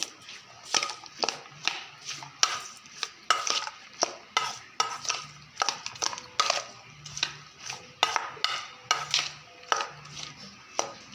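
Squid stuffing mixed with calamansi is stirred in a bowl with a utensil, giving a steady run of soft scraping clicks that come close and clear, with no talking.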